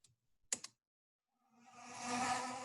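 A bumblebee buzz-pollinating a flower, preceded by a couple of sharp clicks and silence, then a steady, close, raspy buzz that swells and holds to the end.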